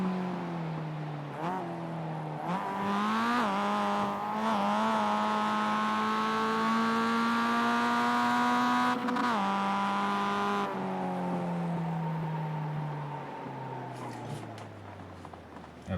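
Mazda MX5 race car lapping the Charlotte Roval, heard from outside: a loud, steady engine drone rising through upshifts, holding a high pitch, then dropping off as the car slows and moves away.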